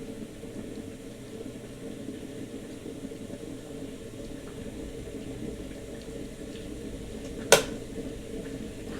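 Water heating for tea gives off a faint, steady low rumble and hiss, broken by a single sharp click near the end.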